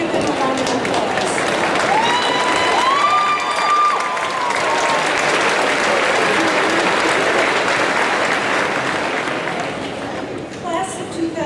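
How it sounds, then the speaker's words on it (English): Loud, sustained applause from a large graduation audience honoring standing family members, with some cheering and a few whistles, holding steady for about ten seconds before tapering slightly at the end. "Give them a round of applause."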